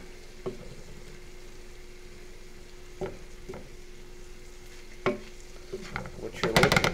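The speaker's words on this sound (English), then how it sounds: "we're going to go ahead and mix that sausage around with that flour until it is evenly coated" Sausage tossed with flour in a pan, a quiet low sizzle with a steady hum underneath and a few scraping stirs of a utensil, building to busier clattering stirring at the end.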